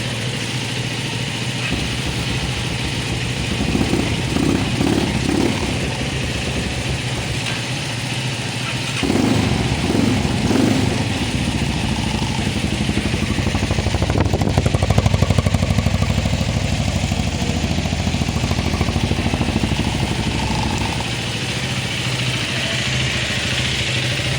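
An 11-year-old KTM Enduro R motorcycle engine runs steadily at idle for the whole stretch, a continuous mid-pitched rumble with a couple of brief revs and no talking.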